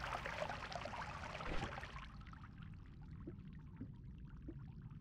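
Faint water pours and splashes in the pixel-physics game Noita. A fuller gushing rush fades after about two seconds into scattered soft drips and trickles.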